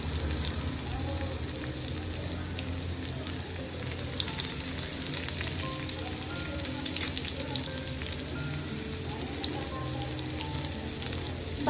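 Garlic, cumin and mustard seeds sizzle steadily in hot oil for a lady finger (okra) dish, a dense continuous crackle and spatter close up, with no talking over it.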